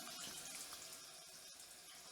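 Water runs from a shower in an Airbnb bathroom in Brussels, a faint, steady hiss of flow with no talking.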